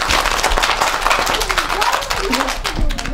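A group of children at a Sinterklaas event clap their hands very fast, a loud, dense flurry of rapid claps close by, with voices chattering underneath.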